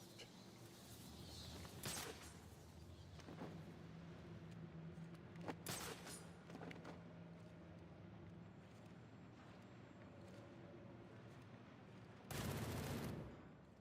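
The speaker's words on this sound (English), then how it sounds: "Dude, you're shooting at each other." Gunfire exchanged between enemies in the video game Batman Arkham Origins: scattered bursts of shots over a steady game backdrop, with a louder, dense burst near the end.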